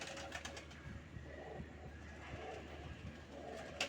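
A pigeon coos softly in a series of low, repeated calls at close range, faint and without any voices.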